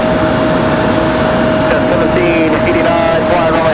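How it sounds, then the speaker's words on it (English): A WestJet airliner departs Raleigh-Durham International bound for Calgary with a steady, loud jet roar and a thin whine holding throughout, while faint bird chirps and light background sounds appear near the end. "WestJet up next, off to Calgary."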